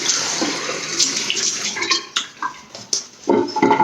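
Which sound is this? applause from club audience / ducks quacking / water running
water running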